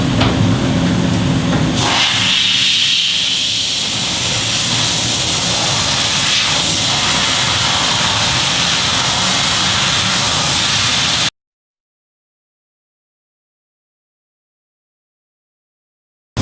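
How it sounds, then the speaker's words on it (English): Compressed air hissing in a steady, loud blast for about eleven seconds as a freshly rinsed part is blown dry during chrome work, followed by abrupt silence. "And blow it dry right away."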